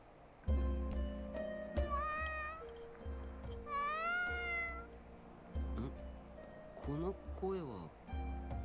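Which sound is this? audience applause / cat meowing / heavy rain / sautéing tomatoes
cat meowing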